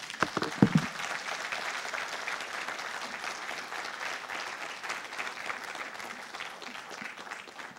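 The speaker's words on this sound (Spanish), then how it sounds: "Levántele un fuerte aplauso al Espíritu Santo de Dios mismo." A church congregation claps continuously, a dense patter of applause that stays fairly even, with a few louder bursts near the start.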